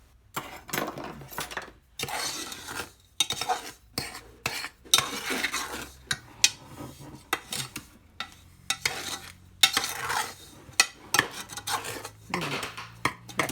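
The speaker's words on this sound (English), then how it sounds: "to get it mixed up really good before you put your milk in there" Spoon stirring chocolate pie filling in a metal pot, with repeated scraping and clinking strokes in uneven bursts separated by short pauses, close and clear with no talk.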